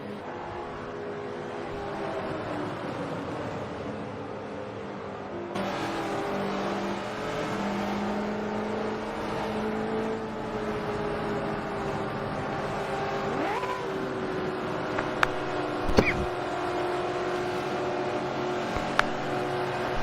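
A pack of NASCAR race cars at Indianapolis drones and revs on a green flag restart in a racing video game, a steady engine roar swelling as the field accelerates, with a few sharp clicks near the end.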